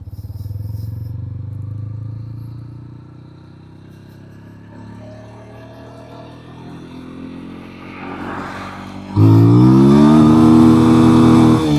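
A 200cc motorcycle engine in urban mode hums low, then revs up through rising pitch before a sudden louder, rougher surge of acceleration near the end.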